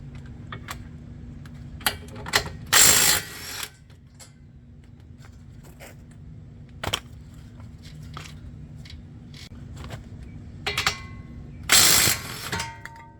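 Ratchet with a 17 mm socket turning a brake caliper bracket bolt on a 2020 Toyota Camry 3.5, heard as scattered close clicks and two short bursts of rapid ratcheting, with no talk.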